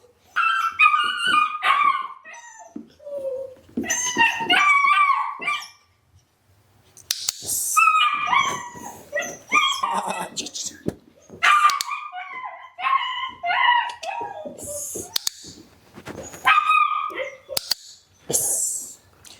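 High-drive Shepherd dogs in training bark and yip in repeated loud bursts, with whining and howl-like cries between them, close by and continuing with brief pauses.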